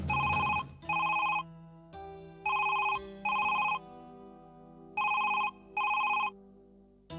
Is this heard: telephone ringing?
yes